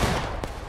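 Massed musket gunfire in the Civil War battle game War of Rights, a dense continuous crackle of overlapping shots with one sharper report standing out near the end.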